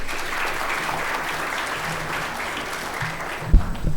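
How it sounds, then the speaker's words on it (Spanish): Audience in a law faculty lecture hall gives warm applause to welcome a guest lecturer, a dense, sustained clapping from many hands at close range, with a couple of sharper thumps near the end. "quien lo recibimos con cálidos aplausos."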